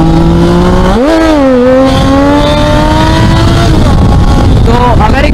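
Triumph Daytona 675R, a 675 cc inline-three motorcycle making 128 bhp, roars loudly and close by, its engine pitch rising sharply in a quick rev and then holding a strong, steady drone.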